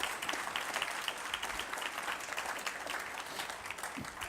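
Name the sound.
audience applause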